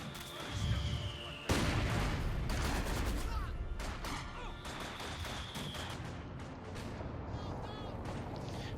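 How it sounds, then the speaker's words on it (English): Artillery shells and gunfire crash in a Company of Heroes 2 battle: dense, continuous bursts of booms and rattling shots, with a heavy impact early and steady loud combat throughout. "Just had more artillery fire there"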